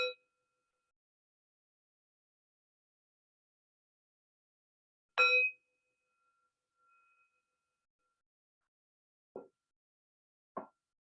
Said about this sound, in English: so I'll just ring the bell 3 times